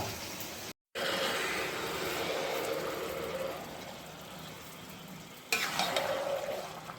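Mutton curry (mutton kosha) sizzles and hisses in a pan while being stirred, a soft continuous frying crackle near the pan, briefly cut out early on, then a fresh louder burst of sizzle as the pieces are turned.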